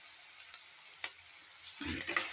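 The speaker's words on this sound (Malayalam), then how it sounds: "കൂടെ ചേർന്ന് വഴറ്റുക" Tomato and masala sautéing in a pan for a papaya and brinjal curry, a faint low sizzle with a few soft stirring scrapes that swell near the end.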